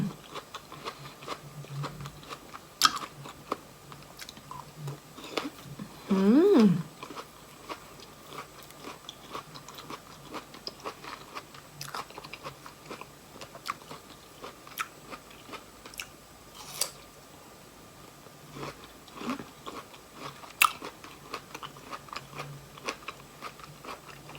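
A crisp persimmon being bitten with a single crunchy snap, followed by soft, faint chewing in a quiet room.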